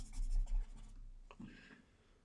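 Paper blender (tortillon) rubbing and scratching across drawing paper while shading a horse drawing: a soft, dry, close scrubbing that is loudest early, then a few lighter strokes fading out.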